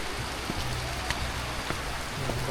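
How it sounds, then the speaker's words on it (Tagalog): Rain falls steadily in Baguio City with a dense, even wash of drops and a few sharper patters standing out, loud and close throughout. "Rain in Baguio."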